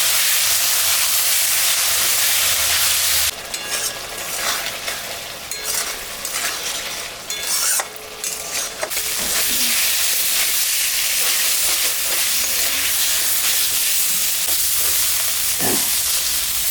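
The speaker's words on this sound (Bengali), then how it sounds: "মশলাটা ভাজা হয়ে গেছে" Ginger, cumin, dried and green chili paste frying in hot oil for a rohu fish curry, a loud continuous sizzle with stirring scrapes and clatters of a spoon against the pan in the middle stretch.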